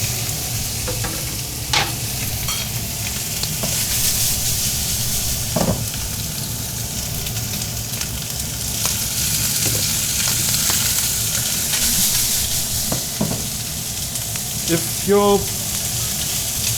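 Continuous loud sizzling of chicken wings frying in a pan, with occasional pops, clinks and stirring sounds, close up and steady throughout.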